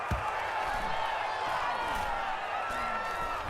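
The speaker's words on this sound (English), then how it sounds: "Oh, this crowd does not like that call." A stadium crowd in the Madden NFL 22 football video game reacts to a penalty call with a steady, broad roar that sits under a commentator's voice.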